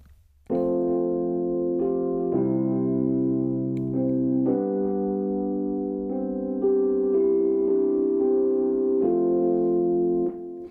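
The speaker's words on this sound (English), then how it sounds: "That is the Musio Rhodes Stage 73" Mellow Rhodes Stage 73 electric piano chords ring out in sustained, slowly changing voicings, warm and clear with no voices.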